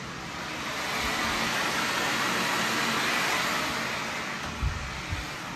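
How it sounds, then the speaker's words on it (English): A Steamist steam shower generator releasing steam, a steady broadband hiss that swells gently and holds for several seconds, with a couple of faint low knocks near the end and no talking. "now you can hear the steam going off"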